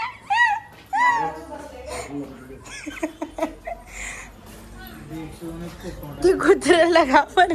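A dog gives high whimpers and yips among people who talk and laugh nearby, with the whining most plain at the start and end.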